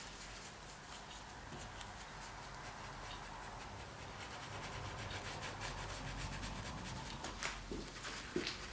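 Paint is rubbed on an abstract painting to soften a colour transition, giving a faint, soft scratchy friction that carries on steadily, with a few slightly louder strokes near the end.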